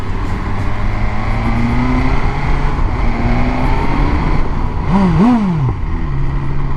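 A 2024 BMW S1000XR motorcycle engine runs steadily up close, a continuous throaty drone with a brief rev that rises and falls near the end.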